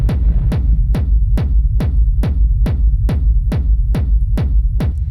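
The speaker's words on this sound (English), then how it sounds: "They have a sidechain effect at the end of the chain to get this pumping effect." A dense, rumbling industrial techno synth bed pumps in a steady rhythmic pulse from sidechain compression, ducking sharply about every half second in an even, driving throb.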